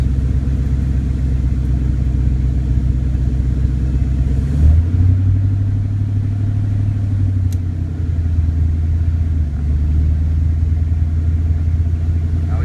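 A 1993 Ford Mustang LX 5.0 convertible engine rumbles low and steady, rising as it accelerates, with a brief break and change in pitch midway as the gears shift.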